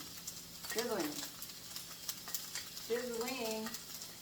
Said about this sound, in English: let's turn it down because it is sizzling